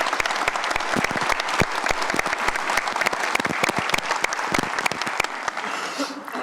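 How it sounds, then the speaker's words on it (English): Audience applause at an awards celebration for Otterbein, dense steady clapping from a crowd that holds throughout and thins slightly at the very end. "Let's give a round of applause for that."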